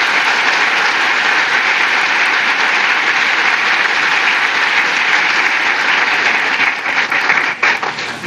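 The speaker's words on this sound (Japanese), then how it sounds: "パートナー各社様に大きな拍手をお願いいたします。" A large audience at a football club's new-season presentation applauding its partner companies, a loud, sustained wall of clapping that thins out slightly near the end.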